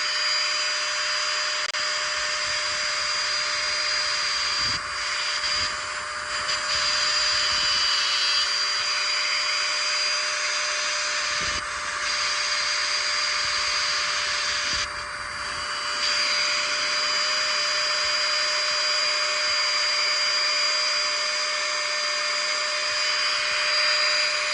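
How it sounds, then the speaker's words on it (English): A router rounds over the edge of a 1/2 inch balsa block for a fishing bait, a loud steady high whine held for the whole stretch, with brief dips and shifts in pitch as the bit moves along the wood. "So we're gonna go ahead and demonstrate routing this."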